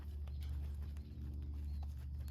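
Horses walk across a riding pen during a lesson, soft, faint hoof clops in a loose rhythm over a low ambient hum.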